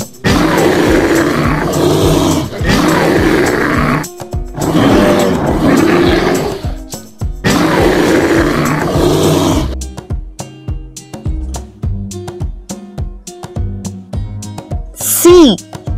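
Four loud, drawn-out bear roars in sequence, followed by a quieter musical jingle and a rising cartoon whistle.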